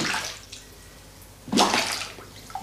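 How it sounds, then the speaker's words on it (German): Water surging back up out of a blocked floor drain in a laundry room, giving a gurgling, splashing rush in two bursts over steady running-water noise. "Das Wasser kommt wieder hoch aus dem Abfluss in der Waschküche."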